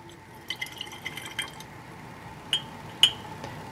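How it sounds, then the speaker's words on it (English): Potassium iodate solution and water are poured into a glass beaker, heard as faint light splashes and drips with a couple of clear glassy clinks, quiet and close. "10 milliliters of the potassium iodate solution is combined with 40 milliliters of water."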